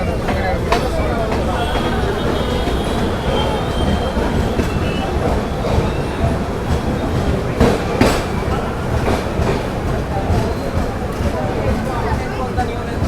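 The Mysuru Express, running from Chennai to Mysore, rolls into Krishnarajapuram railway station with a continuous loud rumble, wheel clatter and occasional squeal, and voices are faintly mixed in.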